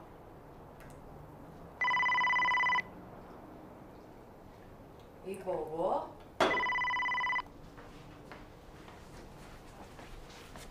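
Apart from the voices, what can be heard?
telephone ringing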